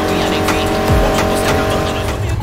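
A race car in the video game Need for Speed Heat roars loudly with a sustained engine drone, and a sharp tire squeal sweeps through near the one-second mark over the constant motor noise.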